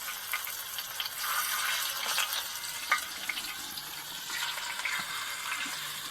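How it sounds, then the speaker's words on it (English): Catfish sizzles on a hibachi grill aboard a boat, a steady bright hiss of frying with small crackles and pops close by, continuing throughout with no talking. "Let's get some catfish out there. Oh, there's the sizzle."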